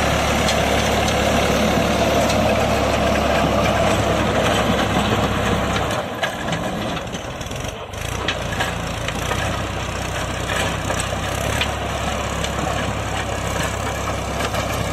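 A New Holland 3600-2 tractor, modified from stock, runs its diesel engine while working a rotavator through hard soil clods, giving a steady, loud, low rumble throughout with a brief dip in the middle.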